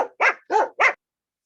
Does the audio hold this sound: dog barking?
yes